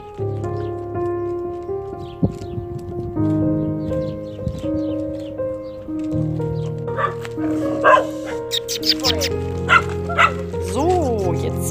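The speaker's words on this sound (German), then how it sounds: "Das ist hier schon mal die Welpenmeute. Die freut sich gerade über ein neues Spielzeug." A litter of puppies yips and barks in rapid, overlapping high-pitched bursts close by, with a low steady hum and some talk underneath.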